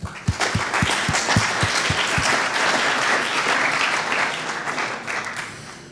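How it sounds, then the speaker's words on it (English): A navigation conference audience applauds after a talk, broad crowd clapping that swells in quickly and holds steady, with a few low thumps early on, before fading toward the close. "So let's give Arne an applause again."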